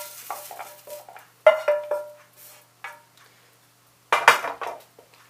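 Celery stirred in a pan without browning, heard as clattering utensil scrapes and clinks against cookware in irregular bursts with quiet gaps, close by and fairly loud, with little audible sizzle.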